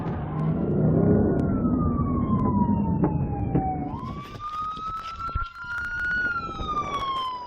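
Police sirens wail and sweep up and down during a high-speed pursuit, loud and close, one tone sliding down then a second siren rising over rumbling traffic and engine noise.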